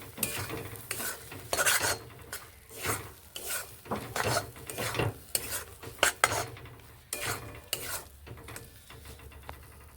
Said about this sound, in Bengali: বেটে রাখা শিমগুলোকে এখানে দিয়ে দিচ্ছি দিয়ে এর সঙ্গে ভালোভাবে এইভাবে নেড়ে কষিয়ে নিচ্ছি